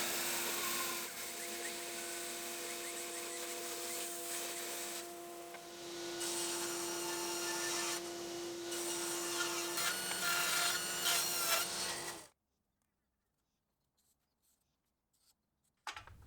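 Bandsaw blade cutting wood around the corners of bar stool legs, a steady rasping whir with a humming motor tone that stops abruptly, leaving near silence.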